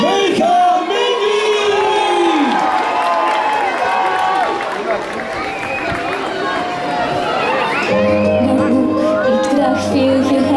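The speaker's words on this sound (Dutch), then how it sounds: "Maar een groot applaus" A largely young audience at a Studio 100 25th-anniversary show at Plopsaland cheers and shouts loudly in a continuous roar, with voices calling out and a sustained tonal sound joining near the end.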